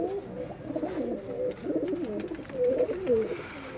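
Domestic pigeons of a home-bred flying breed coo in repeated soft, throaty phrases close by, steady and alone with no talk.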